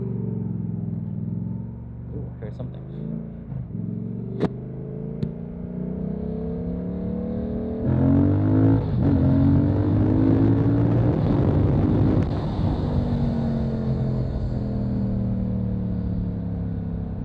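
A car drives through close by outdoors, its engine swelling to a loud broadband rush and then fading away. A person briefly speaks just before it passes.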